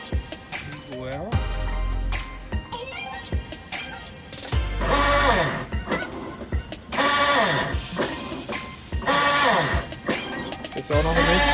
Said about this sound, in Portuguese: Foi trocada a catraca e ela faz esse barulho.